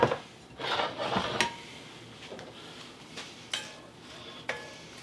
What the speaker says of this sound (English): we're going to add all the vegetables to the pan. And we're going to cook it.